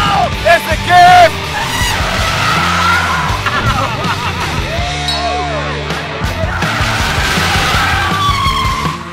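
Mazda 2 race car driven at full throttle around a track, tires squealing and skidding through turns while the engine roars close by, with excited shouts and voices over the noise.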